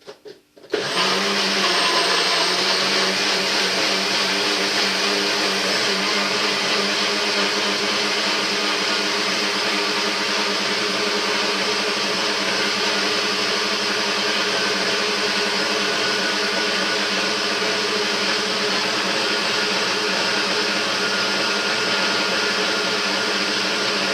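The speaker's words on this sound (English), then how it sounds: "you want to go to the blend for about a second or 2 seconds if you have a good blender." A blender whirs at full speed, blending a green juice with honey: a loud, steady high-pitched motor whine that starts abruptly and holds constant throughout.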